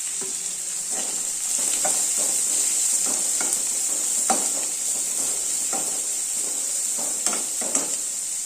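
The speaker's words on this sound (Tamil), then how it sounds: "பச்சை மிளகாய் இஞ்சி கருவேப்பிலை கொத்தமல்லி எல்லாம் போட்டுக்கலாம் எல்லாமே நல்லா ஒரு வதங்க வதங்கிக்கலாம்" Green chilli, ginger, curry leaves and coriander sauté in a pan for instant bun dosa, a steady hissing sizzle under repeated close spatula scrapes and taps at an uneven pace, with no voices.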